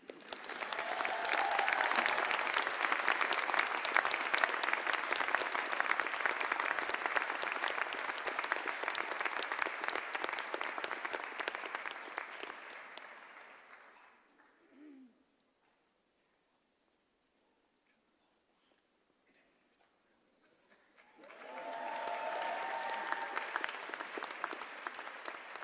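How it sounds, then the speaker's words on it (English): An audience applauds at a medical school MD graduate recognition ceremony. Sustained dense clapping fades out, a quiet pause follows, and then a second round of clapping rises again. "Thank you for the second round of applause."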